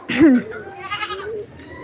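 A young goat bleating for its absent mother gives one loud, close, wavering bleat, followed by a softer, quieter cry.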